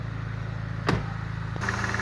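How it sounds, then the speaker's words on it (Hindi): A Mercedes-Benz car engine idles steadily with a low, even hum, interrupted by one short sharp click or thump midway, after which the idle tone shifts slightly. "आपको दिखा दें इंजन की आवाज़"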